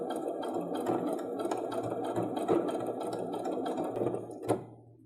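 A sewing machine stitches a felt cushion closed with a rapid, steady mechanical clatter close by, then slows and stops near the end.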